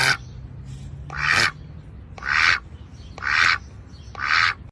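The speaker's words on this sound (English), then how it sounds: "Or duck quacking?" A duck quacks four times in a slow, steady rhythm, each quack a loud nasal burst, with a steady low hum underneath.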